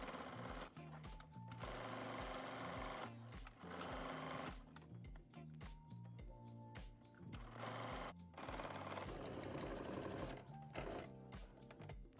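A sewing machine stitches the inner pressed edge of a denim jacket facing, running in loud, steady bursts with brief pauses between them.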